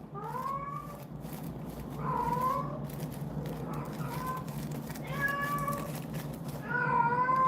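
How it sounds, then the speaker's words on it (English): A house cat meows repeatedly indoors, a series of loud, drawn-out calls spaced a second or two apart, rising over a steady low background hum. "My cat's over here meowing like crazy"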